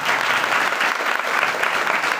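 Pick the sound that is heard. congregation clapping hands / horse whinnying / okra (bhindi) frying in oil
congregation clapping hands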